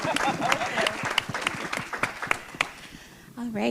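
An audience at an event applauds a translation with a steady burst of many clapping hands. It eases off toward the end, and a voice begins speaking just as the clapping fades.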